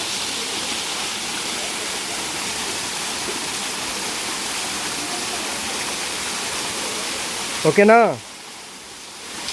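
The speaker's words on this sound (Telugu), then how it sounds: "మేమైతే ఇప్పుడు గండాహాతి వాటర్ ఫాల్ టాప్లోకి వచ్చాం" Gandahati waterfall pours with a constant broad roar heard from the top of the falls, and a brief voice breaks in near the end.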